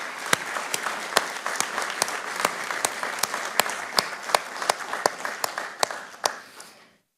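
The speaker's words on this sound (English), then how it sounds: "So I want all of you to give yourselves a big round of applause." An audience at a government awards ceremony applauds steadily, a dense wash of clapping with sharp individual claps standing out, fading away at the end.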